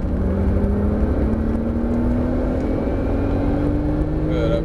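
Porsche 997 Turbo S accelerating hard on a race track, a steady loud engine drone climbing gradually in pitch under full throttle, close and continuous with no talk.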